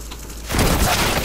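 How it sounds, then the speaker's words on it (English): Gunfire in the shooter game CS:GO, a sudden loud burst of shots that starts partway in and keeps crackling densely to the end, with no one talking. "I hear some gunfire up here."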